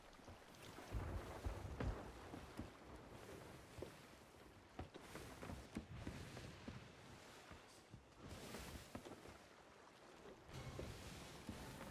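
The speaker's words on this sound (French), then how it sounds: "Ça doit être la tempête." Storm wind howls over the open sea in a pirate sailing video game aboard a sloop, gusting and buffeting loudly in uneven surges, with crashing water and creaking underneath and no talk.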